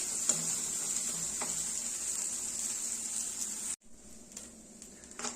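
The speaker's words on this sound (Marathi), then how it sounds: "मसाला छान असा लालसर होईपर्यंत आपल्याला परतून घ्यायचा कारण आपण खोबरं तीळ सगळं इथे कच्चंच घेतलेलं आहे" Masala of raw grated coconut and sesame sizzles steadily in a pan as it is fried for a chicken curry, a bright continuous hiss with faint stirring scrapes, dipping quieter near the end.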